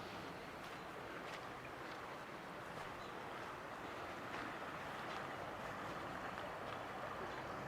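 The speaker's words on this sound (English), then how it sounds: "So yeah, the water's running fast," Fast-running spring floodwater in Lovells Township, rising near a submerged canoe ramp, gives a steady, dense broadband rush that stays even and fairly close throughout with no speech.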